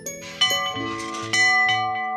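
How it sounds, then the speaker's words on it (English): An old house bell dated 1886 is struck several times, bright metallic clangs with long ringing overtones that overlap and linger, close and fairly loud. "That's a legit bell."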